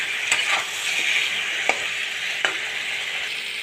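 Masala for a pumpkin, Malabar spinach, potato and shrimp curry sizzles steadily in a pan, with a few sharp scrapes of a spatula cutting through the constant frying hiss.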